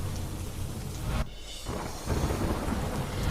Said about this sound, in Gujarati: ધોધમાર વરસાદ પડતા રસ્તા પર ફરી વળ્યા પાણી